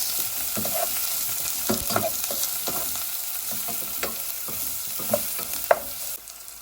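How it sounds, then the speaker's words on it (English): A spoon scrapes and stirs Sri Lankan green bean curry in a frying pan, with irregular scraping strokes and knocks over a steady close sizzle. "Give it a good mix."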